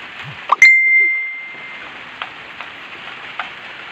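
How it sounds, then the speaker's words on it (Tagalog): Rain falls steadily as a soft, even hiss on a road during morning cycling training on the Santa Cruz–Sablayan route, with a sharp metallic ding near the start and a few faint knocks later. "maulan"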